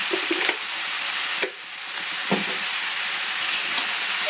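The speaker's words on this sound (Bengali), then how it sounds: "এবার তরকারিটা আমি ভালো করে নেড়ে" Cauliflower curry with peas, turmeric and salt being stirred in a pan, a loud, broad hissing sizzle running steadily with a few scraping strokes of the spoon near the start and middle.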